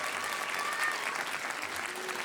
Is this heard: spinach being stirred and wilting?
no